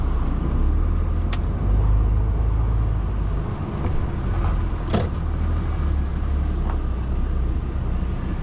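Steady low car engine and road rumble from inside a vehicle pulling away on a one-way system beside a roadside lay-by, with a few brief clicks and knocks over the continuous drone, no talk.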